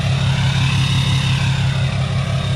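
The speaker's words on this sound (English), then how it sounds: "So this is what it sounds like just at an idle." A 2016 6.7 Cummins diesel with a 5-inch straight pipe idling, a loud, close, steady deep rumble with a fast even throb and no voices.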